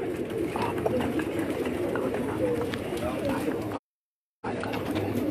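Striped pigeons coo in a low, continuous chorus of several birds, with people speaking over them and a brief dead gap of silence near the end.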